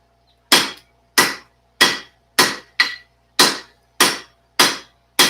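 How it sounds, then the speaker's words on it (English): Hammer blows forging mild steel ring out as sharp, bright metallic strikes at a steady pace, about nine close, loud hits with short decays and near silence between them. "If you keep a good pace, your hammer stroke actually reheats the metal so you can keep going."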